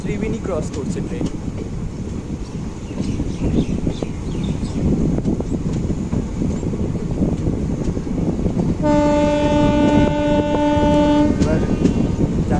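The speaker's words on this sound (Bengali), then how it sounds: "এখন ত্রিবেণী ক্রস করছে ট্রেন।" Kanchankanya Express, the Siliguri to Kolkata train, crossing Tribeni on a diverted route: continuous close rumble of the moving train, then a loud sustained horn blast lasting a couple of seconds near the end.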